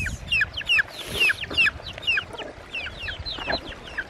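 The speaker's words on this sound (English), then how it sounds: "Little chickens." Several chicks cluck and peep in quick, rhythmic bursts close by, high chirping calls overlapping throughout, in New Zealand.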